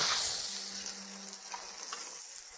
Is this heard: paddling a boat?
no